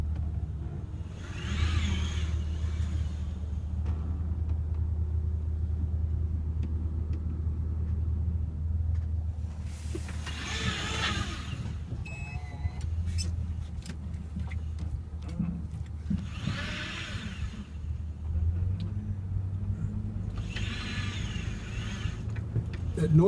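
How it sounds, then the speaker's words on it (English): Electric hand controls working the steering of a car whose steering wheel has been removed give a low motor hum and rumble. The sound runs throughout, under several bursts of nearby talk. "That noise you hear is the hand controls operating the steering"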